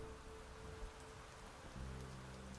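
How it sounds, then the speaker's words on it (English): Steady rain falls in the Arknights game ambience, a constant soft hiss with faint low rumbling underneath. "Rain."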